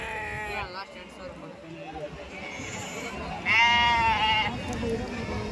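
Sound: young ram lambs bleating at a livestock market

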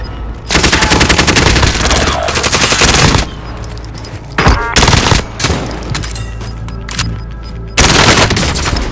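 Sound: gunfire in video game Call of Duty Warzone

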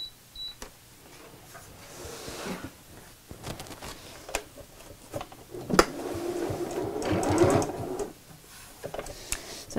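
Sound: sewing machine stitching sides of fabric pouch

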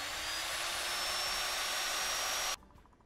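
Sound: sander grinding machine running

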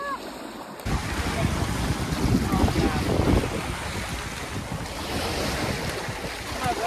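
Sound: strong wind and waves on the Yukon River

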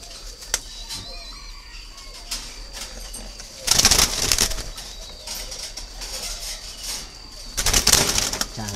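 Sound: doves flapping as they are caught by hand

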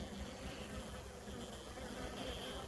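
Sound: honeybees buzzing in a hive after queen replacement

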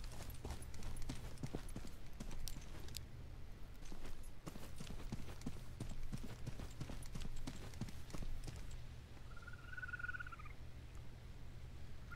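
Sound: footsteps in the video game Deadside

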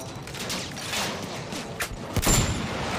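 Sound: rifle gunfire in video game Battlefield 1

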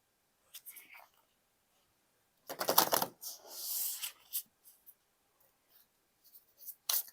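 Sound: drawing tarot cards from a deck

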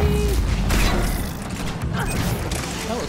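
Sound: explosion in the video game Mass Effect 3

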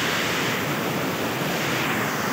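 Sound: waterfall

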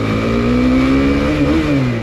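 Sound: motorcycle engine revving while riding

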